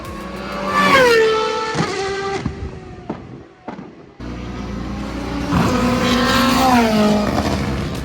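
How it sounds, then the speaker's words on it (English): Aston Martin Valkyrie race car storming past at speed, a loud high-pitched engine note rising and falling as it sweeps by, with a brief lull before a second pass or another car screams through. "absolutely amazing sounding Aston Martin Valkyrie storming past the camera"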